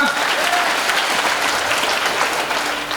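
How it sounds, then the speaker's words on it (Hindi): Strong crowd applause greets a grand welcome event in Goregaon, Mumbai, a dense steady wash of clapping that holds for the whole three seconds before easing slightly at the end. "एक बार जोरदार तालियां।"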